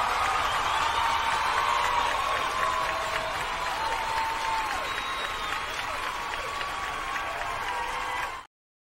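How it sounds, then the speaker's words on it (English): A studio audience applauding and cheering to welcome a guest on a radio show, a sustained dense round of clapping that cuts off abruptly at the end. "Let's give him a warm round of applause"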